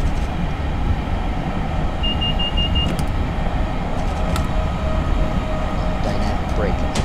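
A locomotive using dynamic braking on a downhill grade in Train Simulator 2018, on a New Jersey Coast Line run, gives a steady, close, droning rail rumble with a faint high whine, unbroken throughout.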